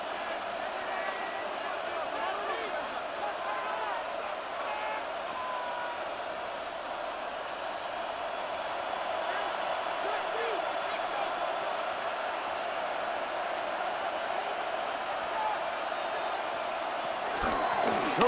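A roaring stadium crowd at a Madden 26 video game football match, Philadelphia Eagles at Kansas City Chiefs, fills the whole stretch as a steady, dense wall of cheering that swells slightly near the end.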